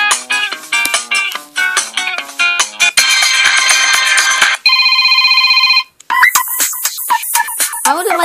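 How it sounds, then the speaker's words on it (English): A phone ringtone plays loudly, a bright electronic melody shifting through several tones and patterns, with no talking. "oh, here's the ringtone"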